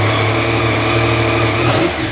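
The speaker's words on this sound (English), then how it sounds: "there's no substitute for just getting on this bike and holding that throttle wide open" A 2020 Yamaha MT09 motorcycle engine held at wide open throttle, a loud close sustained high-revving roar with steady tonal whine that rises slightly near the end.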